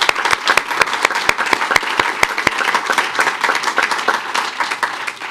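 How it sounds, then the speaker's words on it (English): An audience at a school board meeting applauds for the district's nurses, a steady wash of many hands clapping with a few sharp, close claps standing out early, sustained for several seconds without speech. "Let's give a round of applause for all of our nurses"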